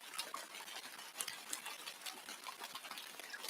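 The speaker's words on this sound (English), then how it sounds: "So let's continue with the rain sounds." Rain playing as background ambience: a steady, soft, hissing patter with scattered faint drips, quiet and continuous with no talk.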